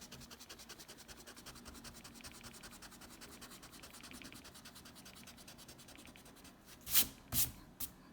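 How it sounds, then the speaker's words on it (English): A classroom board being erased during a first-grade math lesson: a steady soft scratchy rubbing throughout, ending in a few louder swipes. "let's erase what we have"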